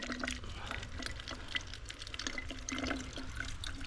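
Steady trickling spring water runs continuously, a close, bubbling flow like a small spring spilling over rocks, with no voices.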